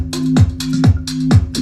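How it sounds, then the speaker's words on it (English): FM synth bass pumped by a side-chained compressor, creating a wobbly wah movement: four rhythmic swells, each ducking sharply as a punchy hit lands, loud and alone. "it gives it a kind of wobbly wah kind of effect"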